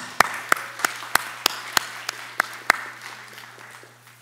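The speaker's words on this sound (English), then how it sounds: "Give another round of applause." A handful of separate hand claps at a college evening event honoring Third World Press, sounding as about ten sharp, evenly spaced claps over a low steady hum, then fading into quiet room tone.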